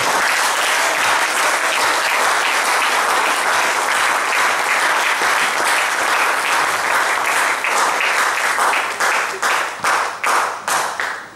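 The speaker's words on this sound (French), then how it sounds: "C'est gentil d'acclamer Naomi" A church congregation applauding Naomi, loud sustained applause from a crowd that thins near the end into a few rhythmic individual claps fading out.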